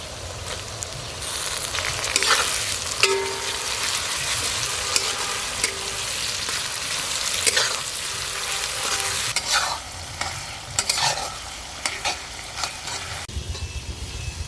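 Chopped onion and tomato fry in a pan for a village-style red country chicken curry, a loud continuous sizzle with repeated scraping and clanking of the spatula as the mix is stirred, no talking.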